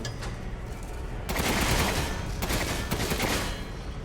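Rapid strafing gunfire from a weapon in a video game, dense bursts of shots filling the clip with loud, sustained crackling and a brief lull between volleys.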